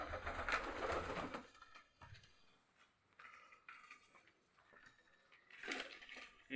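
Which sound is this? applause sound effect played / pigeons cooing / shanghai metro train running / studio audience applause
pigeons cooing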